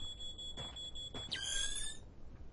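An electronic fire alarm in the horror video game Paranormal gives a shrill, wavering high-pitched tone that swells in the second half, with faint thuds before it.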